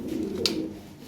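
Large Lahore pigeons give a low, continuous cooing up close, with a brief sharp higher click partway through.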